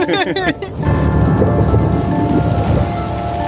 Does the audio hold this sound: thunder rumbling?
yes